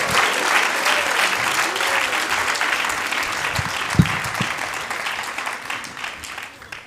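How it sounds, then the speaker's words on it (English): A large crowd at a Gita Jayanti celebration at Bhaktivedanta Manor applauds steadily and loudly throughout, a dense wash of clapping with a few louder thumps near the middle, fading slightly at the end. "Can we please encourage, enthuse, and bless them with a big, loud round of applause?"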